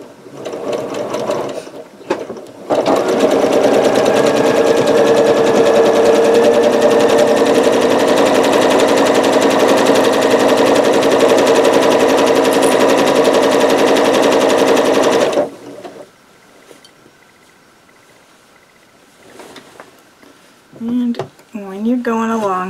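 Sewing machine stitching a quilt seam, a loud steady mechanical rattle for about twelve seconds that cuts off abruptly, followed by quiet handling noises and brief faint sounds.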